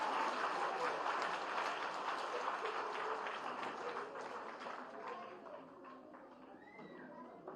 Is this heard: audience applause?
yes